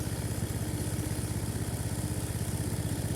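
A motorcycle engine idles steadily in a forest setting, a close, continuous low putter with an even rhythm, running so the rider can flee from nearby wild bulls.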